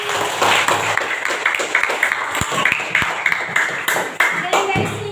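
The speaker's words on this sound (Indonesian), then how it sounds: "Tepuk tangan buat Tiani." Classroom applause with scattered, uneven claps and a few sharp taps, moderately close, over background chatter and voices of students and a teacher.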